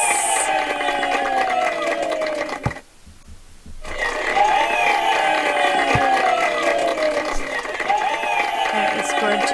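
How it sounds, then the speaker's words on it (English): Enthusiastic crowd cheering in a self-made basketball video game, a loud sustained roar that drops out abruptly for about a second, then swells back and carries on to the end. "Very enthusiastic crowd."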